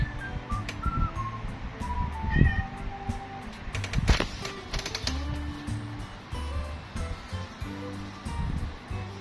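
A stray cat meows affectionately several times in short, high calls spread across the clip, with someone speaking softly to it in between and some brief clattering and handling noises.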